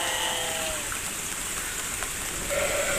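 Heavy afternoon rain pours over a countryside spot with fish ponds, a steady dense hiss filling the air, with faint thin tonal calls drifting in now and then.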